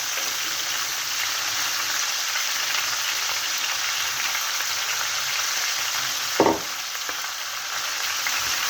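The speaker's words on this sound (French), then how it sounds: "Et on va faire revenir nos oignons dans le jus." Onions sautéing in chicken juices for an olive and chicken tajine: a steady, even sizzle of frying throughout, close and constant, with a single brief knock of a utensil late on.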